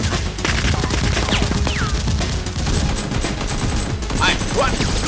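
Rapid, dense popping of Nerf guns firing during an outdoor Nerf war, loud and continuous over a noisy background with faint shouts here and there.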